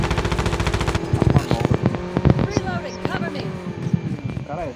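Rapid bursts of automatic gunfire from a new weapon in a first-person shooter game, loud and dense, with sharp shots layered over game hum and background noise.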